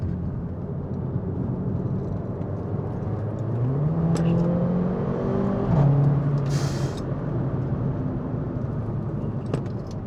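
A Mercedes CLA 45 AMG with 360 hp accelerates on a Swiss Alpine road, its engine note climbing through gears in a rising, rasping pull under steady road rumble, with a brief sharp exhaust crackle near the end.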